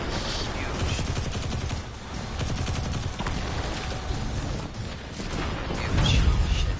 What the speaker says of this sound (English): Huge shit show of just explosions and lasers